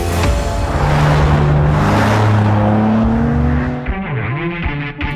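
A 2021 BMW M3 G80 sedan development car pulls through a lap of the Nordschleife, engine roaring loud and close as revs climb and shift, then easing off with a lower wavering tone at the end.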